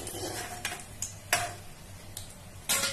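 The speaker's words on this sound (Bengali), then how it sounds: "এখন আমি বড়াগুলোকে তুলে নিচ্ছি" A utensil clinks and scrapes against a pan as fried lentil fritters are lifted out of oil, several sharp metallic taps over a faint background sizzle, close and quiet.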